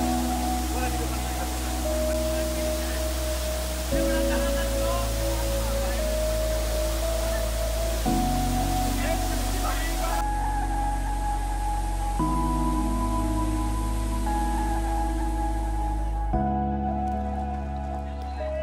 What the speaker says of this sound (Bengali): একেবারে সেরা রূপে এখন অবস্থান করছে এখানে শিলবান্ধা ঝর্ণা